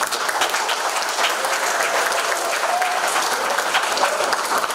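An audience at an oil and gas closing ceremony in Teluk Bintuni regency breaks into steady, dense applause, many hands clapping at once for several seconds in a large hall.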